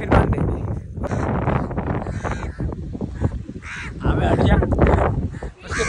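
Crows caw loudly and close outdoors amid wind and other rough, honking bird calls, with harsh repeated calls filling the scene.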